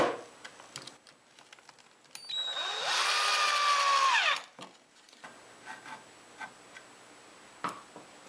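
A power driver whirs for about two seconds, driving a 1 inch panhead screw into a wooden step stool leg seated in a dado, with light taps and handling clicks before and after.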